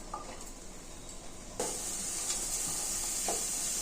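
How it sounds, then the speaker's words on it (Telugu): Green chillies and vegetables frying in a little oil for a South Indian dal and pepper rasam, a steady close sizzle that jumps louder partway through with faint stirring taps. "కొద్దిగా ఆయిల్ వేసుకొని ఇవన్నీ వేయించుకోవాలి."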